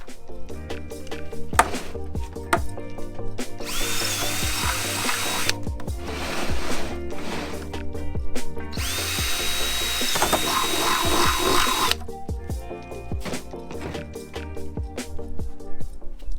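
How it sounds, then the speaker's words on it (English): A power drill whines in two long bursts while drilling holes in a DIY kayak crate, surrounded by clattering knocks and mechanical rattling from close by. "we got to drill another holes in the corner"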